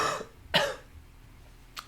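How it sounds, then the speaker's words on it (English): Two short coughs with a faint throat-clearing close by during a podcast, the first soft and the second sharper, with quiet pauses between. "Sorry about the coughing."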